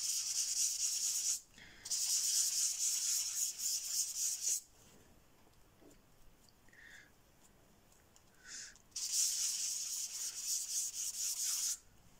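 A cheap foam applicator from Action rubs ink across paper in long scratchy strokes, loud and close, with two quieter pauses between bursts and no talking.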